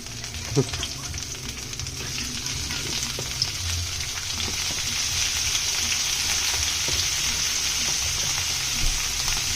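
Eggplant sizzles steadily in a hot pan for ginataang malunggay, a continuous bright frying hiss across the whole stretch with a few faint clinks and low knocks underneath.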